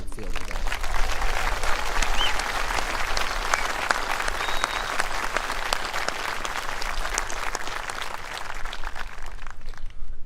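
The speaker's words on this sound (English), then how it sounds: "How about a round of applause for our band and all the cadets on the field today?" Sustained applause from a crowd at a Veterans Day military parade, honoring the band and cadets on the field; dense, steady clapping fills the full stretch with a brief dip near the end.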